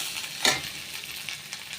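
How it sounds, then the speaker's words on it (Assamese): Fish with onion, garlic and chili frying in a pan, giving a faint, steady sizzle with a brief louder stir or crackle near the start. "ভাজা মাছখিনি, পিঁয়াজ, মাছ, নহৰু, জলকীয়া গোটেই ভাজা হৈ গ'ল"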